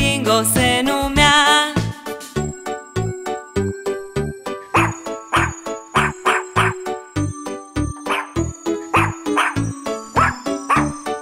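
A dog barks again and again in a lively rhythm inside a children's farm song, alongside bright melodic music and jingling tones. The barks are clear, loud and repeated, with no singing voice over them.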